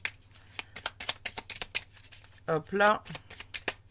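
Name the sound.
shuffling and cutting a deck of oracle cards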